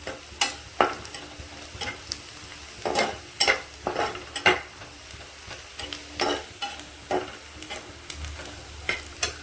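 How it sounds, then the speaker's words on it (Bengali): Onions fry in a pan with green chillies and chopped tomatoes for an egg and tomato dish, heard as a soft continuous sizzle broken by rhythmic spatula scrapes and stirring strokes. "আর একটু হালকা করে ভেজে কাঁচা লঙ্কা ও কেটে রাখা টমেটোগুলো দিয়ে দেবো।"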